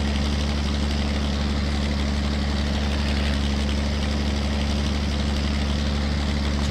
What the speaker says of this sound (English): Nice sounding tractor.